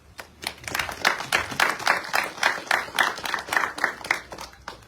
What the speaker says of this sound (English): So this is the time when you clap for your loved ones.